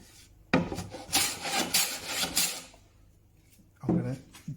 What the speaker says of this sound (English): plane's taking quite a bit off